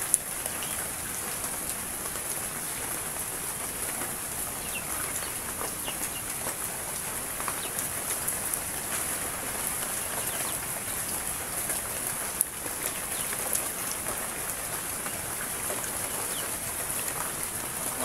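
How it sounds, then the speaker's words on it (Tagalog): Steady rain falls on surfaces as a dense, constant hiss with scattered drops. Faint bird sounds come from the background, and no one speaks. "Yung mga ganito pa naman na ulan."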